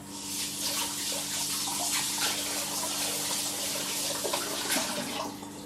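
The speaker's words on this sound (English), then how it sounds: "Got it all over my fingers, so I'm just going to wash it off." Water runs steadily from a tap for a few seconds while fingers are washed under it. The splashing is close and continuous.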